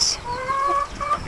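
Hens clucking and murmuring beside a flock, a steady close chatter of soft calls and short trills that carries on throughout.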